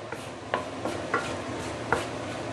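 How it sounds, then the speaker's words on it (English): Homemade curry paste sauteed slowly in a pan over low-medium heat, a soft continuous sizzle with a few light scraping and stirring taps. "So we are going to slowly saute this curry paste for a couple of minutes."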